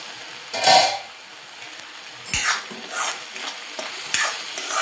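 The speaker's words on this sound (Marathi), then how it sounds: "व्यवस्थित आपण ढवळून घेऊया." Moong dal being stirred in a cooking pot, with a spoon scraping through the mixture in a few separate strokes against a soft background sizzle.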